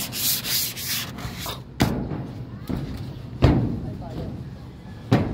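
Sanding by hand with sandpaper during a gutter and repainting job rasps back and forth in rough strokes, punctuated by a few dull knocks, with a voice talking faintly underneath.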